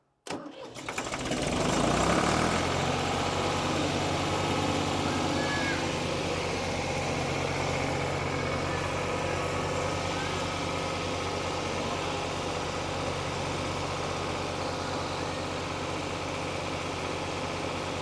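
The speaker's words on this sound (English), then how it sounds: "And then hopefully higher RPM will help blow more snow." A tractor's PTO-driven snowblower runs at higher RPM after a brief startup surge, settling into a loud, steady mechanical drone with a low engine hum that continues unbroken to the end.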